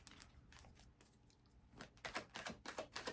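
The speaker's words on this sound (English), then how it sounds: "Y'all see me shuffling the hell out of these cards." Tarot cards being shuffled by hand, quiet rapid clicking and riffling that picks up into louder bursts of snapping card edges toward the end.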